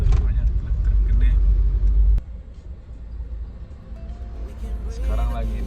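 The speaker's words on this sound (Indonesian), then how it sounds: "Jalan kecil tapi banyak truk-truk gede." Heavy trucks on a narrow road along the Demak ring road in Indonesia, heard from inside a Honda Freed as a steady low rumble that drops partway through, with voices at times.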